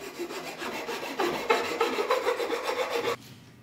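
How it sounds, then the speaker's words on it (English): Rhythmic rasping strokes of a sanding block squaring up a wooden edge, steady back-and-forth scraping close up, stopping abruptly near the end. "you have a great sanding block that helps you square up the edge"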